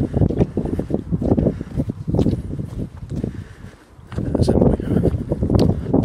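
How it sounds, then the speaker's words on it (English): Gusty wind buffets the microphone outdoors on a wet walk, loud rumbling surges that rise and fall over several seconds with a brief lull midway. "Wind."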